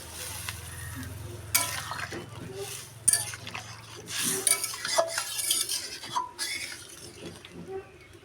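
Yardlong green beans lightly frying in a home kitchen pan, stirred with a spatula that scrapes and clinks against the metal over a low steady hum, while a person talks throughout.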